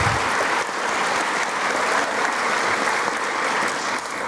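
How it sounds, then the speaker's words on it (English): An audience at a high school scholarship night for the class of 2017 applauds recipients, steady dense clapping throughout at even loudness, with no talk over it. "How about a round of applause for all our recipients tonight in the class of 2017?"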